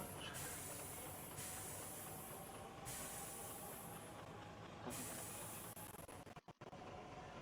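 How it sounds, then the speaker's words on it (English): Trains run along a main railway line, a steady rumbling roar with a high hiss and a few air-release bursts, continuous and fairly close before a brief dropout near the end. "Oh, trains on the main line."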